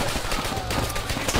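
Dense game gunfire from Call of Duty: World at War strikes the player, a loud, continuous barrage of rapid shots filling the moment with no talk over it.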